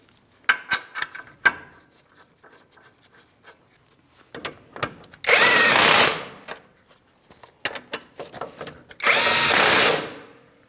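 Power tool snugging caliper bracket bolts on a Ford Transit 250 front strut job: two loud bursts of about a second each, separated by clinks, rattles and handling noise.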